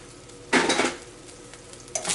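Two bursts of scraping and sizzling as browned ground turkey with ginger and garlic powder is stirred in a hot pan, a utensil clattering against metal, close and clear with no talking.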